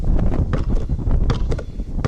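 Gusty wind blows across a farm field during harvest and buffets the microphone with a loud, continuous rumbling roar that swells and dips throughout, with no voices over it.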